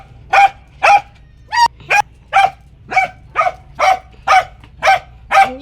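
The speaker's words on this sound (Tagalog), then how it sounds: "Ay, Lenny the dog!" A dog barks repeatedly, about a dozen sharp, evenly spaced barks, loud and near, with a low hum in the background.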